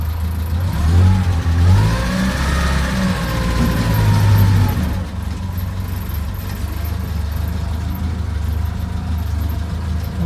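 A 1948 Crosley CoBra wagon with no sound deadening or interior revs loudly as it is put into reverse, its wavering engine note rising and falling for a few seconds before settling to a lower, rough, steady running drone.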